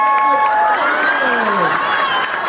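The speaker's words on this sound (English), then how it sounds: "Let's give her a big round of applause" Crowd applause and cheering for a burlesque performer, a steady wash of claps beneath a voice talking over the top.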